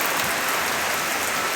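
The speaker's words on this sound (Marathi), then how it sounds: "पाऊस पण छान पडतोय." Steady monsoon rain falls in coastal Konkan, an even, dense hiss of drops on surfaces with no break, close and alone.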